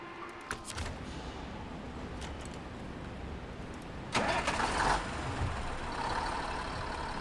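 In the video game SnowRunner, a truck engine turns over and starts, a low rumble that surges louder midway and then settles into a steady idle, heard alone without talk.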